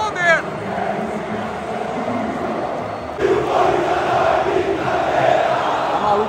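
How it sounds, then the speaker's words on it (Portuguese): Corinthians and Flamengo supporters chant in a packed stadium during a Copa do Brasil final, a dense sustained roar of massed voices that swells louder around the midpoint and keeps going. "Torcida do Corinthians cantando e do Flamengo respondendo."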